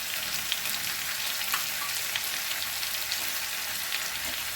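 Ginger garlic paste frying in a pan, a close, even hiss of sizzling oil that crackles softly and steadily with no talk.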